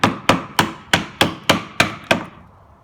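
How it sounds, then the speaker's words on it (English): A chisel struck with a mallet while cutting a wooden cross lap joint held in a bench hook, eight sharp, evenly spaced woody knocks about a third of a second apart, close and loud, with a short fading tail after the last blow. "Keep the chisel pointing up."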